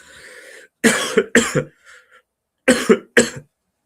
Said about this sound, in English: Apologies, sorry for the cough then.